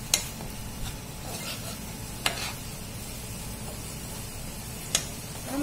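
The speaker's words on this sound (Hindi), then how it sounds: "हम इसको अच्छे से मिक्स कर लेंगे।" Vinegar and red chili sauce are stirred into a pan of Manchow soup over a soft, constant sizzle, with three sharp spoon scrapes against the pan spaced a couple of seconds apart.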